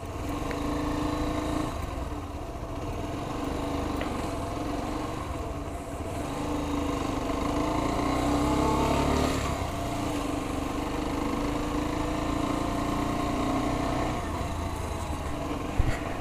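A Sym Wolf motorcycle engine drones steadily on a test ride, with a continuous buzzing tone that swells slightly as speed builds, recorded close with wind rush over it.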